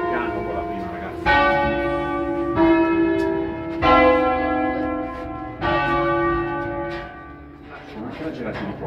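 Church bells of Bresso, near Milan, rung by hand in a solemn concert: loud, resonant strikes arrive every second or so and overlap into a ringing cascade, with faint voices in the background.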